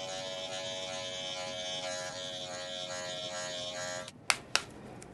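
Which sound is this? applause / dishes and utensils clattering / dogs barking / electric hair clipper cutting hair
electric hair clipper cutting hair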